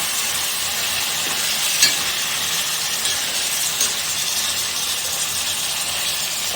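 Chicken and tomatoes being stirred in a hot pan make a loud, continuous sizzle, close up, with a few soft scraping knocks from the spoon mixing through and no talking.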